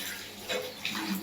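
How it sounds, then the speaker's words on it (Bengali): Tap water running while vegetables are washed at a kitchen sink, a brief, close rush and splash of flowing water with small surges. "সবজি ধোয়া শেষ"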